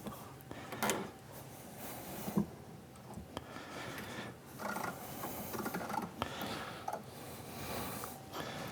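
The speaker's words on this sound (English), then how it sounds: "Here's my ⅛/28 tap. And we'll just tap these holes." A 1/8-28 spiral flute tap is turned by hand in a tap follower. It gives quiet, irregular clicks and creaking ratchet-like scrapes over low background noise, with no talking.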